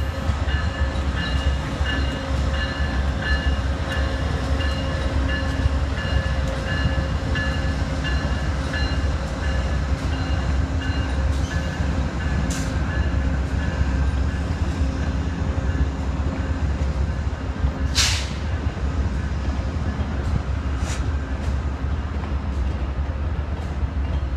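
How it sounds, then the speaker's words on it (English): A train rumbling steadily past at Ottawa train station, with sustained mechanical hum, squeals and occasional clanks, loud and continuous. "check out this awesome rail fanning video I took at the Ottawa train station"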